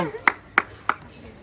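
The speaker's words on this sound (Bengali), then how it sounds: "চলো বোন, জোরদার তালিয়া বোনের জন্য" Three sharp, separated claps ring out close by at a lively family gift game, with people talking over them.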